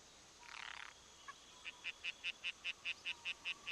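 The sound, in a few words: tree frog croaking in a LOST episode clip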